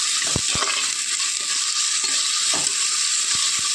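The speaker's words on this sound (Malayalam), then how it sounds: "എല്ലാം കൂടെ ചേർത്ത് നന്നായിട്ടൊന്ന് ഇളക്കി യോജിപ്പിക്കുക." Spiced crow meat chili curry with ginger, green chilli and garlic sizzles steadily in a pan as it is stirred, a few distinct scraping knocks of the spoon rising over the constant frying hiss.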